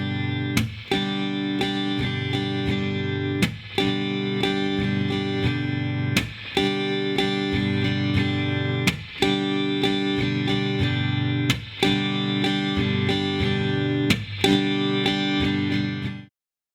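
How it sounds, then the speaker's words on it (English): An acoustic guitar strummed slowly in a chucking cowboy-chord pattern, with sustained chord strums broken by regular percussive muted chucks every few seconds, close and clear without talking. "especially on acoustic guitar, that you get good at this chucking."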